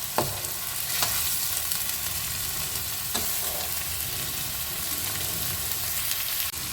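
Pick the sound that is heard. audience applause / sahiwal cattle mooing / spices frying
spices frying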